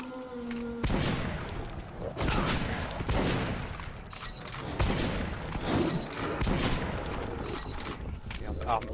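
Combat gunfire in the video game Metro Last Light, with rapid bursts of shots and mechanical clatter running nearly nonstop, loud and close, under a player's talking.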